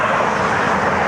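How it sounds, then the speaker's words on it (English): A Boeing KC-46 tanker flying overhead near Cleveland produces a loud, steady jet roar across the whole short stretch. "One of the tankers, the KC-46."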